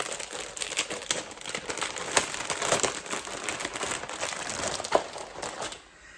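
Loud crinkling and crumpling of material close to the microphone, steady and busy for about six seconds with a few sharper crackles, then dropping away at the end; no one speaks.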